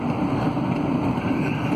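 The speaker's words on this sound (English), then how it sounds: "the engine seems to be running pretty good" A 1988 Honda CRX engine idles steadily after years parked in a garage, a continuous low rumble with a faint whooshing layer and no talk.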